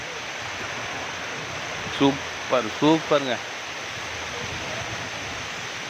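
Tada (Ubbalamadugu) waterfall pouring down at its base, a steady loud wash of falling water throughout, with someone briefly speaking over it.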